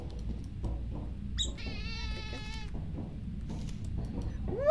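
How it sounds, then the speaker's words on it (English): A cat meows in a drawn-out, harmonic call in the middle of the clip, with a brief squeak near the end, heard under steady background noise from a video game. "I fucking heard the cat"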